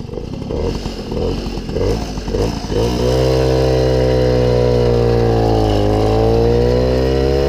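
An MBK 51 Dakota moped with a CDI ignition: a choppy, uneven idle for about three seconds, then a steady high-pitched rev that rises and holds, loud and close with no talking.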